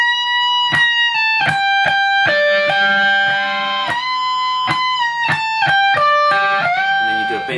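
Electric guitar lead lines for the You Shook Me All Night Long solo, with string bends up to sustained high notes and sharp picked attacks, played alone at close range.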